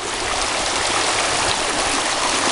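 River water flowing steadily and loudly, a continuous broadband rush with no breaks, close by and alone on a Memorial Day weekend gold prospecting outing.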